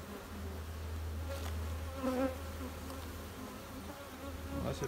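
Honey bees buzz steadily around an open beehive as a hive super is set in place, a continuous low droning hum with brief louder swells as individual bees pass near.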